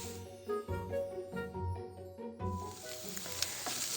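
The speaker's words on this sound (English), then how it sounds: "I'm going to let it all cook together until the vegetables start to get tender" Peppers and onion sizzle in a skillet as an unstuffed pepper dinner cooks, a soft steady frying hiss with occasional scrapes and clinks of stirring, close and fairly quiet.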